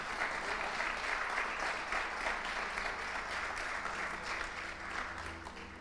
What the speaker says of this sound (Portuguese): Você pode aplaudir a Jesus Cristo por causa disso?